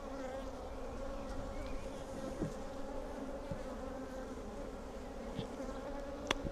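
Honey bees drone steadily around an open hive full of honey, a dense, continuous buzzing close to the listener with occasional individual bees passing nearby.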